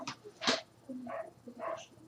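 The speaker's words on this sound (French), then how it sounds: "désolé pour le chien" A dog makes a few soft, brief whimpering or yelping sounds indoors during an online class, faint and somewhat distant, with no clear speech on top.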